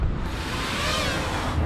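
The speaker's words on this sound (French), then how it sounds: "Il y a un petit peu de vent mais ça devrait le faire" Wind buffeting the microphone at the foot of the Tour de Bretagne in Nantes, a loud steady rumble and hiss lasting throughout with no pauses.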